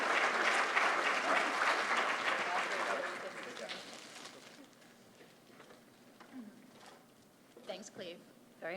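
An audience at a UC Davis business competition event applauds warmly for the organizing team and contestants, the clapping strong at first and fading out, with a speaker's voice heard afterward.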